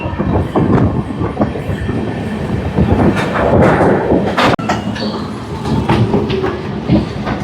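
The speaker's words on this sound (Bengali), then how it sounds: "আমাদের ট্রেন ঢুকে গেল ব্যান্ডেল স্টেশন।" A passenger train pulls into Bandel station on the Howrah line, a loud, close rumble of wheels and rattling carriages with clicking joints and a brief sharp jolt midway, continuing steadily throughout with no voices.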